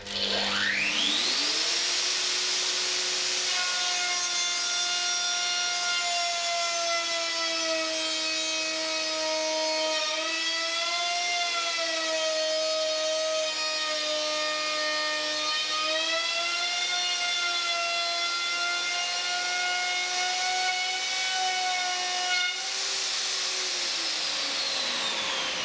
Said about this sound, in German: Jetzt muss ich hier den Rest rausfräsen, sodass ich hier auf 30 mm tief fräsen kann.